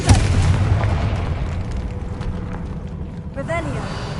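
A fiery Confringo spell blast from the video game Hogwarts Legacy booms loudly at the start, then settles into a rumbling decay under steady background ambience.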